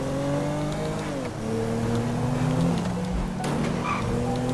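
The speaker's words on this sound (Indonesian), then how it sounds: "langsung aja kita tancap gas" Car in a video game story mode, engine revving and accelerating with rising pitch through gear shifts, a brief tire squeal partway through, loud and continuous with no talk.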